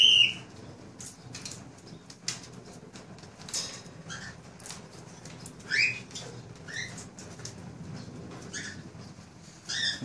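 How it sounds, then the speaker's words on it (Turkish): Cockatiels squabble while eating seeds, giving sharp scattered chirps and squawks over soft pecking and shuffling, close and intermittent with no talking. "Çekirdek kavgası yapıyorlar şu an."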